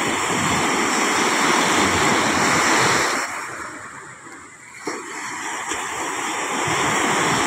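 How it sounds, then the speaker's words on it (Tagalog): Waves wash onto the shore in a continuous roar, easing briefly as one recedes before the surf builds back up. "Medyo may alon siya konti."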